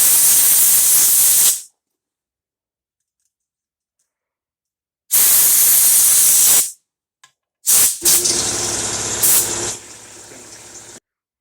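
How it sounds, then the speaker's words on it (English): A workshop air compressor kicks on with loud bursts of broadband hiss, separated by silence, then a steadier mixed running noise. "I got air compressor kicked in"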